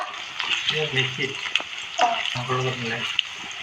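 Meat with onion, masala and turmeric sizzles and fries in a pan while being stirred. A voice talks over the steady cooking noise throughout.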